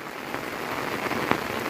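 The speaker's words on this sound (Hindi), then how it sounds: "ये बारिश शुरू हो गई है।" Steady rain falling around a home in India, a dense continuous patter of drops on surfaces, moderately loud and close, with an occasional sharper drip standing out.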